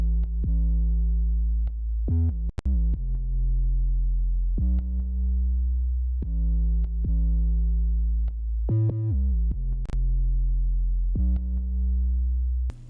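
Synth bass from a Simpler instrument with saturation, kick sidechaining and EQ, playing sustained harmonic-rich notes that pump and dip in a steady rhythm, loud and close, with a few sharp clicks and a brief stuttering passage.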